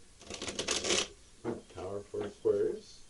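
A quick riffling burst of tarot cards being shuffled close by, followed by someone speaking softly.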